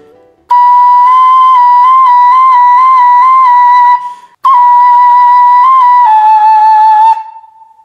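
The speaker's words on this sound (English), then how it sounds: "I'm playing this song on the low D whistle, but of course you can play this on the thin whistle too." A low D tin whistle plays a slow Naruto melody: sustained, pure breathy notes with gentle slides, one short breath break midway, the final note trailing off, loud and close with no talking.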